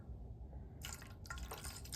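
Liquid poured into a skincare scrub mixture of kojic acid, turmeric and brown sugar: a faint low background gives way to a soft splashing trickle, briefly pausing, then resuming close by.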